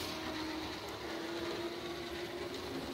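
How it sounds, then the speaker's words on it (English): Model train shuttle, the coal shuttle, running on the Milwaukee North Western RR layout at a Trainfest show: a steady, close, continuous rolling rumble with a faint whining hum, alone with no talking. "I think it's time we run some trains."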